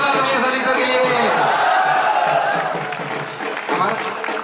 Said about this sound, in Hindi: आप सभी के भाई एक बार जोरदार तालियां सभी के लिए।